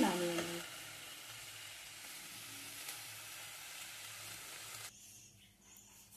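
Jute greens fry with melting sugar in a pan, a close, steady sizzle that cuts off abruptly near the end, leaving quiet kitchen room tone.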